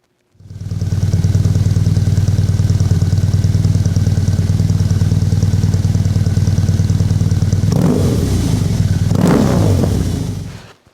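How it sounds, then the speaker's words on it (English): A BMW R18B motorcycle fitted with an aftermarket Freedom exhaust idles with a deep, steady, loud rumble close by for most of the clip, then gives two short throttle blips near the end before cutting off. "this is what the aftermarket Freedom exhaust sounds like."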